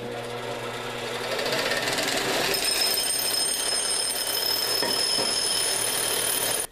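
Grinding wheel working the edge of a hatchet forged from a ball peen hammer, a steady high whirring grind that builds in the first second and holds evenly until it stops abruptly.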